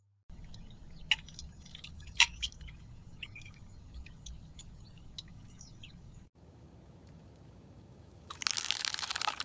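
Crunchy, wet chewing and eating of cooked tuna, with scattered crisp bites and crinkles at close range, then a louder hissy burst near the end; no talk.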